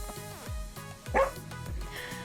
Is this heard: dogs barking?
yes